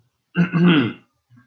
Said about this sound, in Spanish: tengo una carraspera